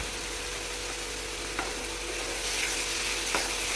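Tomato puree frying in a pan with salt, giving a steady dense sizzle throughout, with a few soft scrapes as it is stirred, close and continuous without talk.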